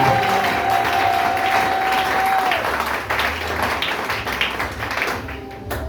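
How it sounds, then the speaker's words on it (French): A church congregation at a lively evening service in Kolwezi applauds loudly and steadily, a dense wash of clapping and crowd noise that carries on alone throughout, with a held organ-like tone early on. "Est-ce qu'on peut acclamer très fort la parole?"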